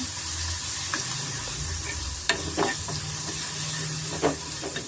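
Ginger-garlic paste fries in hot oil with a steady hiss, cut by a few sharp scrapes of a spatula against the pan. Close and alone, with no speech.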